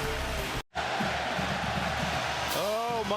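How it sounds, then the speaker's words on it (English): A college basketball crowd in San Jose cheers and yells loudly in a dense, continuous roar, briefly cut out early on, with a commentator talking over it. "Listen to this crowd in San Jose"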